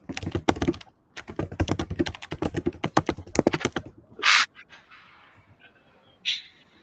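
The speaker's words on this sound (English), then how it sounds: "I'm hearing some typing in the background" Rapid clicking of keys on a computer keyboard in quick bursts, followed by a pause and a couple of soft thuds.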